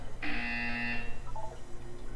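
A single harsh electronic buzzer in the video game Portal 2 sounds for just under a second, loud and steady, followed by a faint short beep amid quiet background hum.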